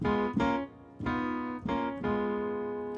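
Three sustained piano chords played one after another, each ringing out before the next is struck.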